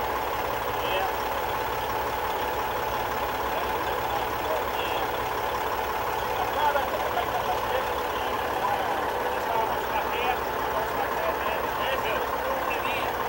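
A semi-truck engine with a faulty EGR valve idles steadily, a constant low rumble that runs throughout beneath someone talking nearby.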